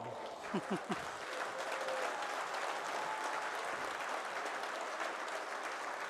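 Steady crowd applause at a WDF World Darts Championships match fills the space, sustained and even throughout, with a few low thumps near the start.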